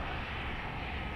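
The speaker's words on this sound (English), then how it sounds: "This is a 737-700." A Southwest Boeing 737-700 airliner at Dallas Love Field at night, a steady broadband engine roar at moderate distance with no voices.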